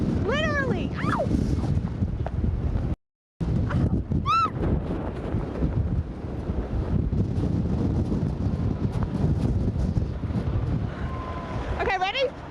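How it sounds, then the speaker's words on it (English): Strong wind buffets the microphone in Palm Springs, a continuous loud broadband roar with gusty surges throughout, broken by one brief dropout, while people talk over it. "The wind is so bad here in Palm Springs that it caused this stoplight to fall over."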